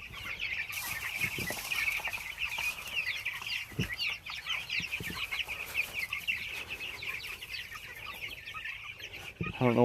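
Many chickens at feeding time in chicken tractors cluck and squawk together close by, a busy continuous chorus with occasional thumps and rustling.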